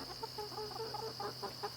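Soft, irregular clucking from a few chickens nearby, low and murmuring over a steady background hum.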